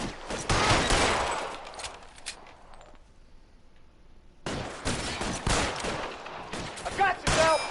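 Rapid bursts of gunfire in an L.A. Noire shootout, loud and dense, stopping for a quiet second mid-clip before resuming with more shots and impacts.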